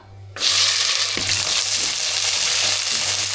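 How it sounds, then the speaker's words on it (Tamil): Small onions sauté in hot oil with curry leaves and dried red chillies for a Tamil sundakkai kulambu, breaking into a loud, steady sizzle after a quiet start and staying dense throughout, with faint stirring scrapes. "சின்ன வெங்காயம் நல்லா வதங்கட்டும்"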